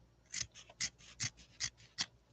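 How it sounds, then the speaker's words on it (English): Scissors snip through tough fabric in about six crisp, evenly spaced cuts, close up and isolated against a quiet background. "Listen to those scissors work."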